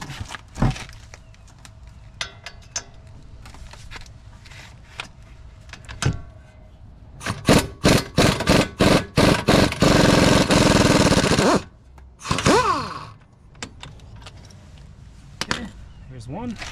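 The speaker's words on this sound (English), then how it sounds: "You have a 18mm bolt here and one towards the bottom here. And we'll go ahead and pull those off" Brake caliper bolts come off the front of a GMC Canyon with a loud impact gun, sending a burst of rapid hammering that runs several seconds and then stops, followed by another short burst. Scattered clanks and taps are heard around it.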